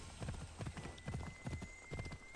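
Horse hooves clip-clopping in the video game Assassin's Creed Odyssey, a steady rhythmic trot of distinct hoof beats at close range, with a faint tonal game background underneath.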